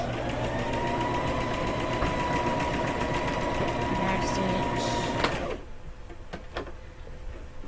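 A sewing machine runs steadily and close while back-stitching to reinforce a seam on a quillow blanket, then stops about two-thirds through, leaving faint handling clicks.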